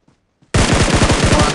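Loud, close automatic gunfire in BGMI, a rapid burst of evenly spaced shots that starts abruptly after a brief near-silent moment and keeps firing steadily.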